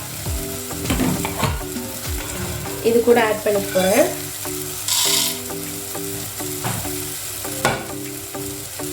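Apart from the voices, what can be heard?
horse gram roasting in a pan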